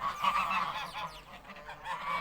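Several domestic geese, a family of two adults and four young, honk continuously while being fed, a close chorus of overlapping calls with no talk.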